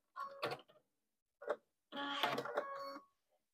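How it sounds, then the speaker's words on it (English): A sewing machine stitches a quilt block to the end of the seam, running in two short bursts and then one sustained run of about a second, with a steady motor whine and needle clatter, close by with no talk. "And sew all the way to the end."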